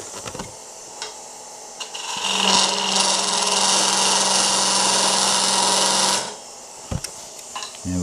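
A skew chisel cuts a dovetail into an oak tenon spinning on a lathe, a steady humming scrape lasting about four seconds between quieter handling knocks before and after.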